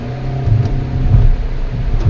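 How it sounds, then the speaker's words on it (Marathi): A car rumbles along a rough unpaved road, with a steady low engine drone and bumps thudding through the cabin at close range. "ते कच्चा रोड असल्यामुळे गाडी खूपच हलते."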